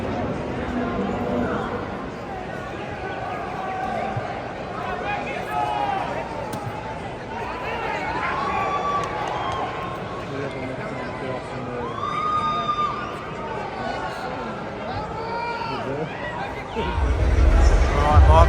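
Crowd murmur fills the T-Mobile Arena in Las Vegas early on a fight night, a sparse but continuous babble of chatter and scattered voices, with a louder thump near the end.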